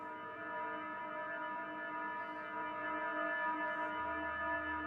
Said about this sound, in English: We should fix the alarm at some point.